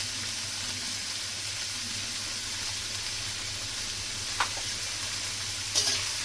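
Veg chowmein noodles fry in a pan with a steady, even sizzle and a low background hum, broken by a couple of brief clinks or scrapes near the end.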